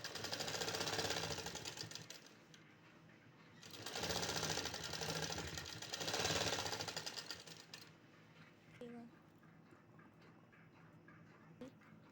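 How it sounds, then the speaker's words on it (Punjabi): Sewing machine stitching folded cloth lined with pasting paper, running in bursts of rapid mechanical whirring and clatter, close and fairly quiet, separated by pauses with faint handling clicks. "ਇਹਦੇ ਤੇ ਆਪਾਂ ਨੇ ਇਵੇਂ ਸਿਲਾਈ ਲਗਾ ਲੈਣੀ ਹੈ"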